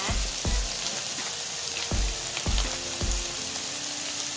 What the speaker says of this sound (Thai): ผงปรุงรสค่ะ ผัดคลุกเคล้าให้เข้ากันนะคะ